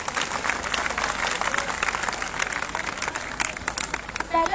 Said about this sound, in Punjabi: ਉਹਦੇ ਲਈ ਕਈ ਜ਼ੋਰਦਾਰ ਤਾੜੀਆਂ ਹੋ ਰਹੀਆਂ ਨੇ